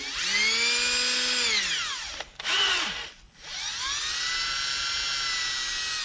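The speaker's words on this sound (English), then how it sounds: "I just put them in a drill chuck and then I rotate it" A power drill whirs steadily with an engine valve from a Yamaha Raptor 350 head spinning in its chuck, winds down briefly, spins back up, stops again, then runs on at a constant high-pitched whine.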